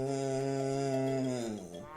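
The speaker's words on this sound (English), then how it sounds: "What noise does the nenchie make? Or what noise does the cow make?" A single sustained cow moo, a steady harmonic low call that drops in pitch near its end, heard alone and close.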